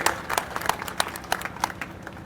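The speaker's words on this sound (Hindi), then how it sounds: "इनका जोरदार तालियों से स्वागत कीजिए" Applause for Narendra Sharma at a Congress campaign rally in Pundri, heard as sparse, scattered claps from a crowd, fairly faint and uneven, with no voices over it.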